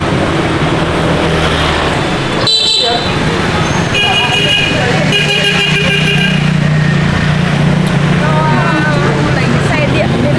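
Busy Hanoi street traffic crowded with motorbikes, loud and close, engines droning and revving with a sharp horn toot near the middle and a clattery passing vehicle, voices mixed in.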